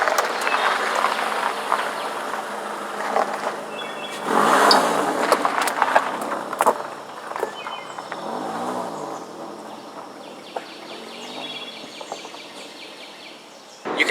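A Toyota RAV4 Limited AWD engine revs up while driving on a slick road, a steady cabin-heard engine note rising and falling through the drive, with faint bird calls in the background and no speech.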